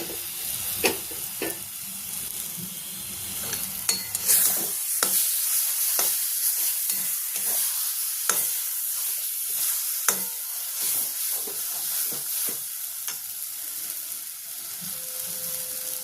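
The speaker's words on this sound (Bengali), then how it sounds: "ধনেপাতাটা দিয়েও আমি আরও 2-3 মিনিট নাড়াচাড়া করব।" Brinjal bharta with coriander leaves fried and stirred in a pan, a continuous sizzle with frequent sharp scraping and tapping strokes of a spatula against the pan at an irregular rhythm, no voices.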